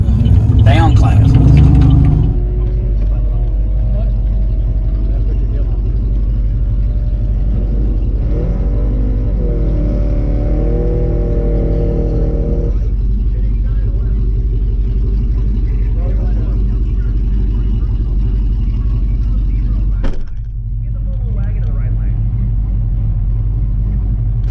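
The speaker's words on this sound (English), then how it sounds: "Left lane, the four-wheel drive pickup truck." A four-wheel drive pickup truck at a drag strip rumbles under ongoing talk, opening with a loud burst of engine noise, then a sustained drone and a brief revving rise, and ending with a sharp bang.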